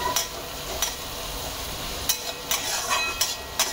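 Paneer tikka masala ingredients sautéing in a pan, a steady sizzle with a few sharp spatula scrapes and clinks scattered through, close and without talk.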